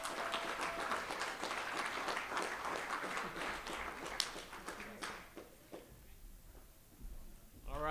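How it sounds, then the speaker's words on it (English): Audience applause at a community annual meeting, full and steady for about five seconds, then thinning into a few stray claps, with faint voices and movement as it dies down. "another round of applause for a North Omaha native"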